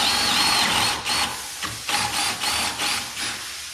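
A power drill bores baluster holes into a wooden handrail, a loud, close whirring that dips and surges in short pulses as the bit is pushed in and eased.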